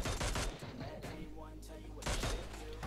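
Rapid bursts of gunfire in a PUBG Mobile squad fight, loud clusters of shots at the start and again near the end with a dull low rumble between.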